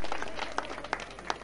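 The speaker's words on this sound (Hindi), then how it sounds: "जोरदार ताली दोबारा से स्वागत करें" Crowd at a political rally in Narwana, Haryana claps for a speaker, a thin, fairly quiet patter of hands with a few sharper individual claps standing out.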